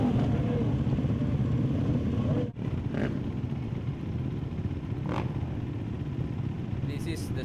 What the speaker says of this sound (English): Engine has started.